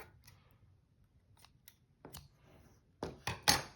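Scissors snip thread while sewing signatures into a junk journal, a few crisp cuts that get louder near the end, each one short and sharp against a quiet room.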